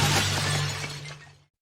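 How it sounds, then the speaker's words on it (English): A loud crash of a motorcycle smashing into a street cart, with a sharp shattering burst up front that decays over about a second and a half into silence. "he wasn't paying attention and crashed his motorcycle into a street cart."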